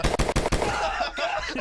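A rapid burst of about five sharp gunshots in the first half second, loud and close, followed by a ringing, noisy tail that fades out.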